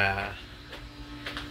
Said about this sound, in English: So now it's kind of loud in here because that's the pool pump.